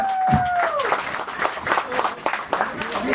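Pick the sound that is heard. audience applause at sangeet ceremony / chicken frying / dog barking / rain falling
audience applause at sangeet ceremony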